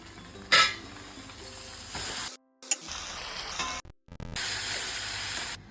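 Masala noodles stirred and tossed in a pan, a steady scraping sizzle broken by a couple of brief silent gaps, close and clear with no talking.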